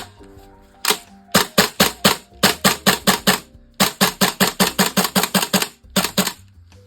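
A Tokyo Marui MWS M4A1 CQBR gas blowback airsoft rifle fires close up in rapid, sharp clacking bursts of several shots each, with short pauses between strings and no talking.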